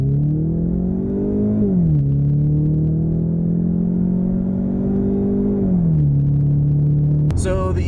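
A 2016 Ford Mustang EcoBoost with a 2.3-liter turbocharged four-cylinder pulls hard, its droning engine note climbing steadily, dropping sharply at two gear shifts, then rising again, loud and close.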